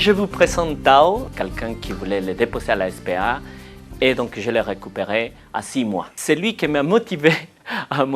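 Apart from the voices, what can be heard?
None of the usual background noises is heard.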